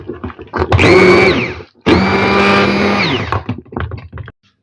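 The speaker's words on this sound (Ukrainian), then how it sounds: "посолю і поперчу, поперчу і зіб'ю блендером" A blender whirs loudly in two bursts, blending cauliflower purée, the first about a second long and the second longer, with a short pause between and clattering before and after.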